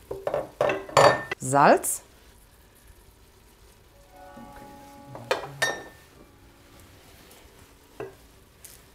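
Garlic is added to a pan of vegetables and stirred, bringing sharp clanks of a utensil against the pan, then a quiet sizzle with a few scrapes and taps. A voice speaks briefly.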